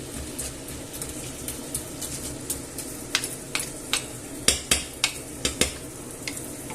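Clams and hake noodles are stirred in a pan over a steady background sizzle, with a utensil scraping and clacking against the pan in a repeated rhythm that grows sharper toward the end, close by.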